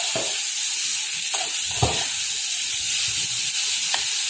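Four green chillies hit hot oil in a frying pan, a constant bright sizzle and hiss with a few soft knocks and stirring thumps scattered through it.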